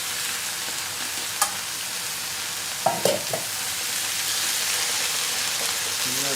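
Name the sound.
stirring cilantro into frying fideo noodles with tomatoes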